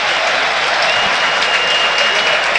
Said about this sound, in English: the Chelsea fans on their feet applauding Estevao